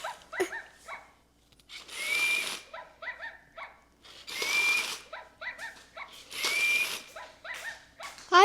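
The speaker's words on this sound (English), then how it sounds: "And this is my robot dog." A Wolfie robot dog toy, steered by remote control, gives repeated bursts of barking and whirring motor noise in three evenly spaced rounds, fairly close and loud, with short electronic chirps in between.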